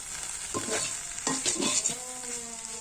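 Okra and potatoes frying in a pan for a Bengali home-style bhaji, with a steady sizzle broken by a few sharp scrapes of a spatula stirring against the metal, close and without voices.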